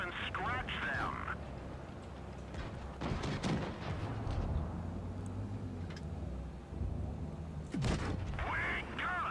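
Tank cannon shots fire in World of Tanks Blitz, with a sharp blast near three seconds and another near eight, over a steady engine rumble and game noise, with brief voice-like sounds mixed in.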